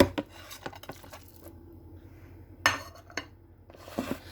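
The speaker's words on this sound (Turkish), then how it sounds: "Şimdi e, kıymamızı kabımıza koyacağım." Minced meat for potato köfte is scooped into a kitchen bowl, with a quiet run of utensil clinks, taps and scrapes against the dish and no talking.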